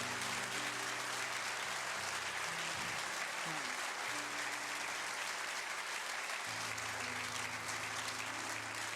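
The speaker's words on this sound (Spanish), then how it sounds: "Dele un aplauso ahí al Señor." A church congregation applauds steadily and fairly loudly during a Spanish-language worship service, the clapping filling the whole stretch with faint voices mixed in.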